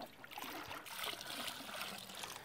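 Water poured into a small, short bait bucket on a fishing boat off coastal Georgia, a continuous close trickling and splashing lasting a couple of seconds.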